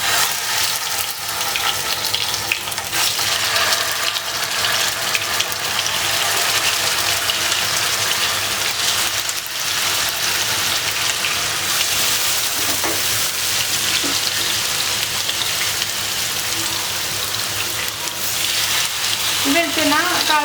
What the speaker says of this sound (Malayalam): നമ്മുടെ വെളിച്ചെണ്ണ നന്നായിട്ട് ചൂടായിട്ടുണ്ട്. നമുക്കിനി ഇതിലേക്ക് ഫിഷ് വെച്ച് കൊടുക്കാം.